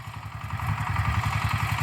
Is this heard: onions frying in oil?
no